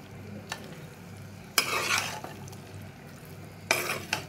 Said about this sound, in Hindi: अच्छी तरह से आप मिक्स कर लीजिए।